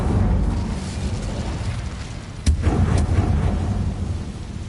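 An Incendio fire spell cast in Hogwarts Legacy, a sudden whooshing burst that flares over a low rumbling background, followed moments later by a softer second flare.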